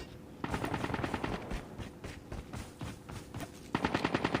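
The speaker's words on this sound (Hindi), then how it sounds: "यहाँ पर थोड़ी फायरिंग भी सुनाई दे रही है" Rapid automatic gunfire in the mobile game Call of Duty Mobile, dense bursts of shots in quick rhythm, fairly close and continuous across the few seconds with brief dips.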